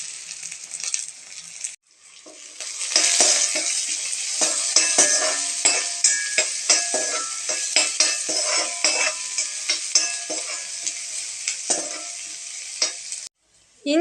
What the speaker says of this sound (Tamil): இப்போ இது வதங்கட்டுங்க வெங்காயம்